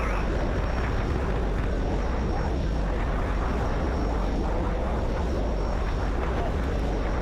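Aircraft engines roar steadily through a dogfight in the Battlefield video game, a constant close drone with a faint high whine riding on top and no clear changes in pitch or loudness.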